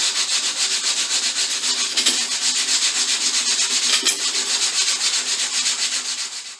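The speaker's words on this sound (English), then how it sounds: "just spend a few minutes sanding around the edge here" Steady rhythmic rasping of sandpaper rubbed back and forth over a wooden tambourine edge, close and continuous, with fast even strokes throughout.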